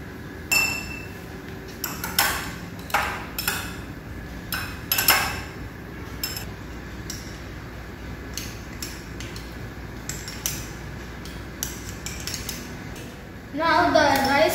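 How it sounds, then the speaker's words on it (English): Boiled rice being mashed with a spatula inside a glass conical flask during a protein test, giving repeated irregular clinks and scrapes of utensil on glass, fairly close, with a brief louder rattle at the end. "Now I am going to smash the boiled rice with spatula."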